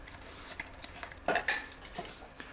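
Acrylic paint and hardener are stirred in a pot, producing quiet, irregular clinks and scrapes of a stick against the container, with a louder cluster of knocks midway.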